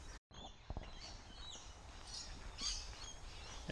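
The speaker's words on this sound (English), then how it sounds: "There are so many birds everywhere. You always get to hear the sound of the birds." Birds chirp and call near a sandy, muddy shoreline, faint scattered tweets over a steady outdoor background hiss, with a brief dropout near the start.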